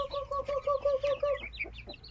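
Chickens clucking close by while pecking at feed, a run of repeated tonal clucks followed by a few softer, scattered calls, with no voices.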